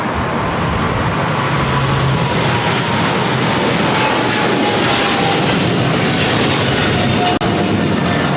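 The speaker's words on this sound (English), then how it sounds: "That is Korean Air Cargo 8208 taking off to Seoul on the 777 freighter." A Korean Air Cargo Boeing 777 freighter takes off at LAX, its engines a loud, steady broadband roar that fills the whole stretch without a break.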